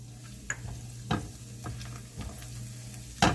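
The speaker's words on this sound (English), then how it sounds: "You want to just stir your garlic around" Chopped garlic sizzles in a hot pan with oil while it is stirred, a steady close fry broken by several soft scraping strokes of the spoon.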